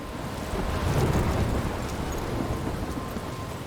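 A thunderstorm with heavy rain hisses steadily, and a low rumble of thunder swells early and then fades beneath the continuous downpour.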